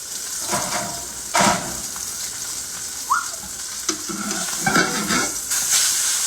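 Ribeye steak sizzling in a hot skillet while butter is added and spooned over it for basting, a steady loud crackle with several sharper spits and clatters of the spoon and pan.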